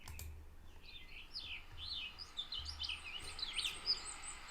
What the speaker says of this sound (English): I swear they still are singing as if they were in Arizona, because they're the first bird I hear every year